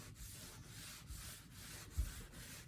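A cloth wipes excess one-step paint off a wooden tabletop, a soft steady rubbing swish repeating in short even passes, close and fairly quiet with a small bump near the end.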